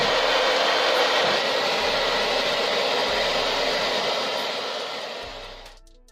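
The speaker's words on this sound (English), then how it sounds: "I improvise with my blow dryer" A handheld blow dryer runs steadily as a heat source for deep-conditioning natural hair on wash day, a loud broadband whoosh held close for several seconds before it cuts off at the end.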